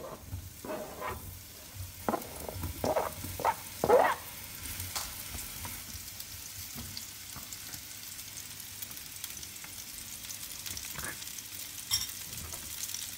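Mushrooms frying in a heated pan give a steady sizzle, with scraping stirs and clatter in the first few seconds before the frying settles into a continuous hiss.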